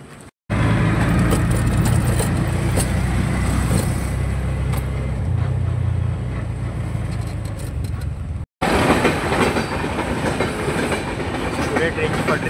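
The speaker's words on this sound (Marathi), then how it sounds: "आता ट्रेन गेल्यानंतर जाऊ आम्ही." A train rolls steadily past a railway level crossing on a road journey from the Konkan towards Panvel, a loud, close, continuous rumble with clattering wheels that fills the whole stretch, broken only by a brief cut.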